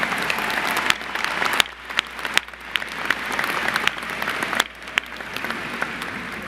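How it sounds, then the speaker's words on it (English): Graduation audience at a University of South Florida ceremony breaks into applause, a broad crackling crowd clap with a few sharp nearby claps standing out, swelling and dipping in waves. "Please join me in a big round of applause for those who helped you get to where you are today."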